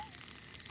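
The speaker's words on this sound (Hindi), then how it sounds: "ये कीड़ों की चींची आवाज है।" Cartoon night-time crickets chirping softly in a faint, steady stream of high pulsing trills, quiet and without talk.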